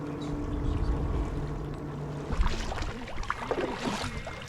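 Kayak paddling on calm water in the morning, with a Primo kayak: a steady low wash of water and hull noise, then a few sharper splashes and drips from paddle strokes near the boat.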